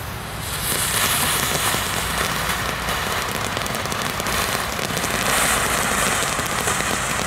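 A steady, dense crackling hiss of French firework fountains sprays on for several seconds, loud and continuous, with a fizzing spark-like texture throughout.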